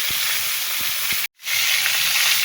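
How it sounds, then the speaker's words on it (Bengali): Fish dropped into hot oil for a Bengali mrigal fish curry sizzle with a loud, steady hiss that breaks off briefly mid-clip, then resumes at full strength, with faint low clinks underneath. "তেল দিয়ে দিয়েছি, তেলও গরম হয়ে গেছে, মাছ দিয়ে দিলাম।"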